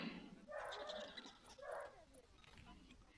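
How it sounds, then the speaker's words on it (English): Several dogs bark and yip excitedly in short bursts somewhere nearby, faint and slightly muffled as if from another room, under a person's voice talking. "my dogs are going crazy"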